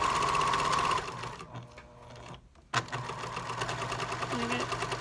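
A sewing machine stitches a Valentine treat bag with a see-through window, running in a fast, steady mechanical whir, then pausing briefly before starting again close up.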